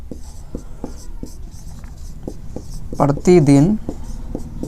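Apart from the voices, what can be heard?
writing on a board during a maths lesson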